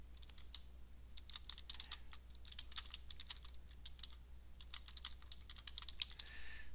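Typing on a computer keyboard, a steady run of quick clicking keystrokes with short pauses between bursts, close and alone over a low constant hum.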